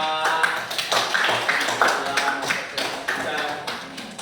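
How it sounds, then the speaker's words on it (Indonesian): A classroom group of young students claps for group work, a steady patter of many hands tapping close by for several seconds. "Jadi berikan aplaus untuk semua"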